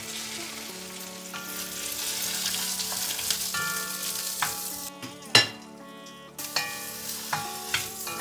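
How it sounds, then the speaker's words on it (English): Okra frying in gingelly (sesame) oil in a kadai for a South Indian dish, a steady close sizzle with spatters and occasional stirring knocks throughout. "what I usually do is fry okra first in a little bit of oil"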